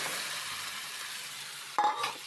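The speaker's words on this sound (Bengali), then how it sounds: "এবার দিয়ে দিব মাখা মাংসগুলো" Marinated chicken pieces dropped into a pan of frying onions, tomato and garlic, a loud bright sizzle with a sudden spattering burst and scrape as the meat goes in.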